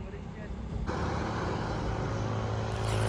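A red state transport bus from Satara rumbles steadily nearby, its engine drone and road noise continuous and fairly loud beneath people talking.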